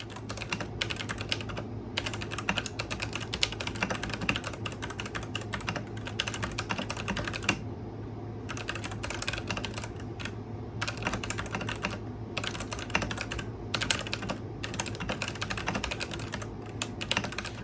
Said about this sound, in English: It's a tone under the click of the keyboard. That's why I call it an undertone. And to me, I describe it as a clang because it sounds metallic.